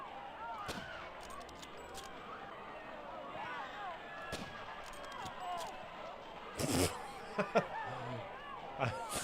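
A few sharp gunshots crack out in PUBG gameplay over a low, steady background, with a cluster of reports bunched near the end.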